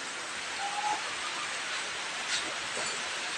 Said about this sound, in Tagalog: Malakas po yung ulan nito agaw.